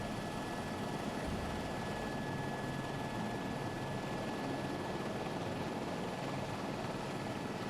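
A helicopter flies over an offshore sailing race, its rotor and engine producing a continuous, even roar that fills the whole stretch with no voices or other sounds heard.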